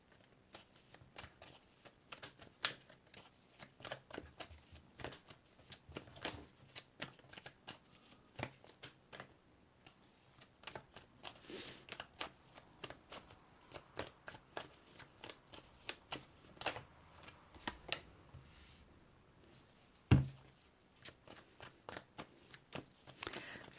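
Tarot cards are shuffled steadily for a long stretch, with crisp papery riffles and flutters, close and fairly quiet, ending in one sharper slap of the deck near the end.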